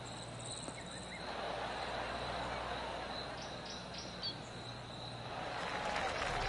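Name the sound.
golf claps from crowd in PGA 2K25 video game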